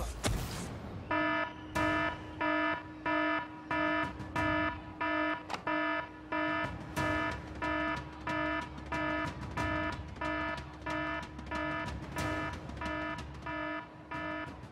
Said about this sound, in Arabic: اشتغل جهاز الإنذار، لازم تمشي فورا